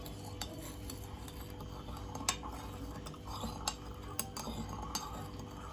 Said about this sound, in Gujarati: આ પાણીને આપણે સારી રીતના મિક્સ કરી દઈશું।